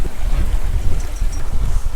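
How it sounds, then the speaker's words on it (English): A sailboat moving under sail alone with no engine running, at about 2 knots: heavy, rumbling wind buffeting the microphone over a low wash of water, steady and loud, no voices. "We are just sailing, not No engines on."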